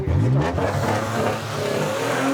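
Engine of a Nissan 300ZX caught right as it fires up and runs, a loud, close mechanical roar with rough low-end rumble that rises and holds steady, no voices present.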